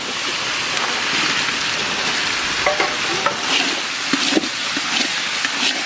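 Onion fries in oil with ginger garlic paste, a close, steady sizzle broken by irregular scraping stirs and small spattering pops.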